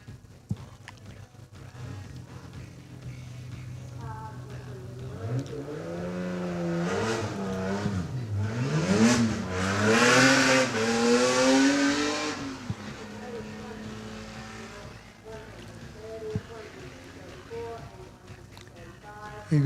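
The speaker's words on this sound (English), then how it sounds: "Here goes Mike in that beautifully turned out little Porsche." A Porsche 911 Turbo racing up a hillclimb course, its engine revving and rising through gears as it passes close and loud, then fading away, with a commentator talking over it.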